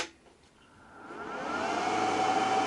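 A budget 3-in-1 welding machine is switched on and its cooling fan spins up, a faint whooshing hum that swells over two seconds into a steady airy whir with a thin tonal whine.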